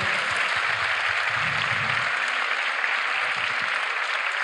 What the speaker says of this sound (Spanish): Espero que se deje escuchar ese aplauso